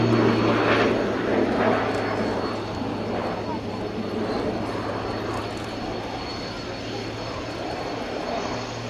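An RAF Tucano T1 propeller trainer flying a display loop at the Yeovilton Royal Navy International Air Day, a continuous loud engine drone that swells and slowly fades, heard alone without talk.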